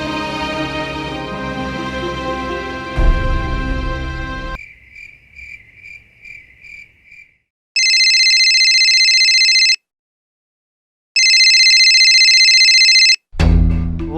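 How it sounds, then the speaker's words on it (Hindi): A loud electronic phone ringtone sounds in two long bursts with a short silence between, following a stretch of music that cuts off. "और ये बल्लू फोन क्यों नहीं उठा रहा है?"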